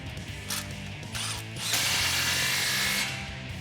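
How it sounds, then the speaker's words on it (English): A ratchet tightens an exhaust clamp under a 2018-2019 Ford F150 5.0L fitted with a Roush performance exhaust, giving rapid close clicking in short bursts followed by a longer, louder continuous run. "let's go ahead and tighten this clamp as well"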